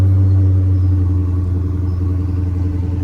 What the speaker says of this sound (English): I got a cold start